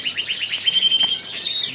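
Caged greenfinches give a rapid run of bright, high chirps and twittering calls, close and fairly loud, with no voices.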